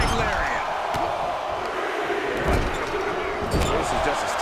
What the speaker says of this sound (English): Man, just listen to the crowd.